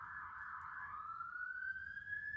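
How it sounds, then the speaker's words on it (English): An emergency vehicle siren wails outside, a single tone sliding steadily upward in pitch, fairly distant and subdued against a quiet background. "That siren's very loud and obnoxious."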